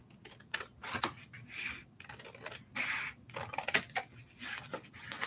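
Scissors cutting paper for a bullet journal: a quiet, close series of crisp snips and paper rustles in an irregular rhythm, with no talking.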